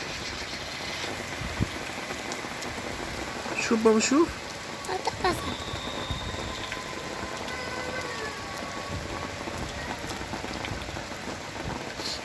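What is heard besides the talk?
heavy rain falling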